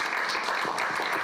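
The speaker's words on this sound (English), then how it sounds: "So let's give them a round of applause." Attendees at an Empire State Development directors' meeting give a brief round of applause, a short patter of clapping, fairly quiet and heard without any talking.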